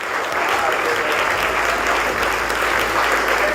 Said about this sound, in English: A hearty cheer from the American Civility Association for Donald Foy